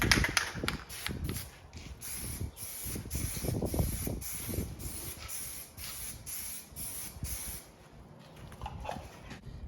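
Aerosol can of Plasti Dip sprayed in repeated short bursts over a Tesla Model 3/Y emblem for a heavier second coat, a rhythmic hissing series close by, then quieter pauses near the end.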